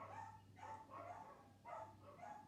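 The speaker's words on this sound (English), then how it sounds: "Sorry about the dogs barking." Several dogs bark indoors in bursts, three or four separate rounds of woofs with short pauses between, fairly faint and some distance from the microphone, over a low steady hum.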